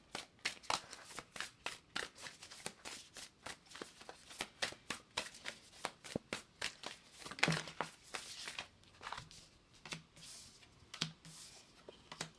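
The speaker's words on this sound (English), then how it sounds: "Let me pull a few more cards real quick." Halloween-themed tarot cards being shuffled and handled, a close, quiet run of rapid papery flicks and riffles with irregular rhythm and occasional louder snaps, without talk.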